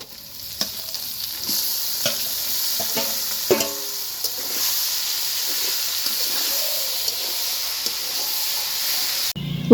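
Boiled greens fry in hot oil with crushed garlic, chopped onion and broken dried chillies, giving a steady close sizzle and hiss broken by the scrape and clatter of stirring.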